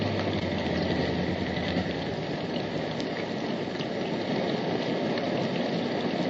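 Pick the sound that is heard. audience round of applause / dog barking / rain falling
rain falling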